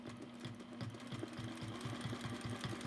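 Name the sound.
sewing machine free motion quilting around a ruler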